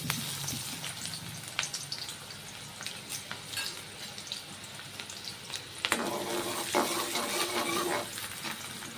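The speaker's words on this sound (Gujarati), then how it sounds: "તો આપણું તેલ ગરમ થઈ ગયું છે સૌ પ્રથમ આપણે ડુંગળી એડ કરશું" Onions dropped into hot oil for a rainy-day vegetable dish, a steady crackling fry with scattered spatula knocks and a louder burst of sizzling partway through, close and unaccompanied by talk.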